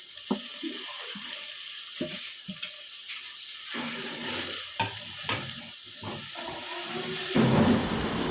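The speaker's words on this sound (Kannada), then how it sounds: "ಈರುಳ್ಳಿ ಹಾಗೆ ಮೆಂತ್ಯ ಪಲ್ಯ ಕೂಡ ಎಣ್ಣೆಯಲ್ಲಿ ಚೆನ್ನಾಗಿ ಗೋಲ್ಡನ್ ಬ್ರೌನ್ ಬರೋ ತನಕ ಒಂದು ಸ್ವಲ್ಪ ಹುರ್ಕೋಬೇಕು." Onion, curry leaves and fenugreek leaves frying in oil for a cowpea gravy, a soft steady sizzle broken by scattered spatula taps and stirring scrapes, close and moderately quiet.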